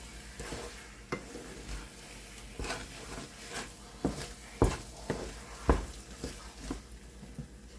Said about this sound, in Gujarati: બરાબર મિક્સ કરી દેવાનું છે આપણે, ઘી છૂટે ત્યાં સુધી.